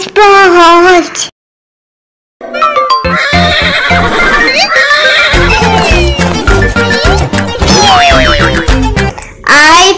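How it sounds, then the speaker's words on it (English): A horse neighs loudly at the start and again at the end, with a whinnying call set among bouncy, cartoonish sound effects and music in a children's alphabet song. "H for horse. H for horse."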